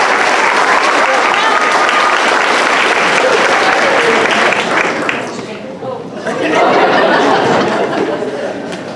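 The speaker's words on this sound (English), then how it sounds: "Let's give these students another round of applause." Middle school awards audience applauding eighth grade students, a dense sustained clapping with some chatter and chuckles, dipping briefly near the end before swelling again.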